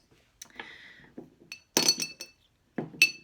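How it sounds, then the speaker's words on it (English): Small rocks dropped into a glass jar for a terrarium, giving a few sharp clinks and knocks in separate bursts, close and fairly loud, with no talking. "you're just going to go ahead and put them in your jar"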